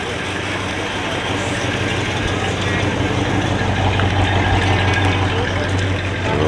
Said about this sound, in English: A little Studebaker cruising by there